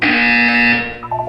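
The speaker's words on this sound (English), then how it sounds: "When you hear the buzzer, look up at the ceiling." A loud, harsh electronic buzzer from the video game Portal 2 sounds in one continuous blast of nearly a second, then cuts off into a short trailing electronic warble.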